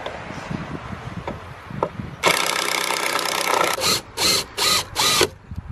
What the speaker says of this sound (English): you don't want to drill directly into the grain like this